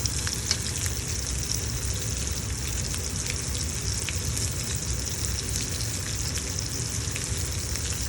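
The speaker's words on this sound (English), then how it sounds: "That's been simmering right now for about 5 minutes or so" Broth simmers in a pot for potato-crusted halibut, giving a steady, even hiss of fine bubbling and sizzling that stays constant throughout, close and with no voices.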